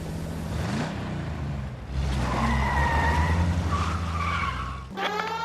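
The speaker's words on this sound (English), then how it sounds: "Suspect vehicles engaged in illegal street racing." Cars in an illegal street race skid and squeal their tires in the video game L.A. Noire, a steady loud roar of engines with rising squeals. Sirens or horn-like tones join near the end, and no one speaks.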